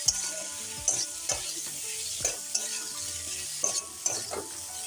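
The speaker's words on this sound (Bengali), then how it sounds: "এখন বেশ ভালো করে আমি নেড়ে চেড়ে নেব" Vegetables with spices, ginger paste and green chilli frying in a pan, a continuous soft sizzle punctuated by regular dull knocks and scrapes of a spatula as the mix is turned over, close and moderately quiet.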